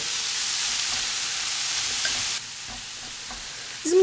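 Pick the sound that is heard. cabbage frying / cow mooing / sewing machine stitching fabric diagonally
cabbage frying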